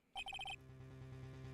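A telephone in the video game Ace Attorney Justice for All rings in five quick electronic chirps, a bright clipped burst, then fades to a low steady background hum.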